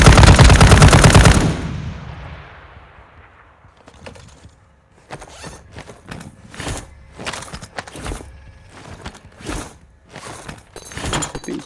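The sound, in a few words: heavy gun firing in Warzone Mobile video game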